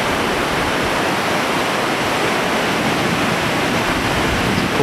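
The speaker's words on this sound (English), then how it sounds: "It's a cool big beach." Ocean surf rolls onto Playa Hermosa, a wide beach near Uvita on Costa Rica's southern Pacific coast, as a loud, continuous wash of broadband noise with no clear breaks.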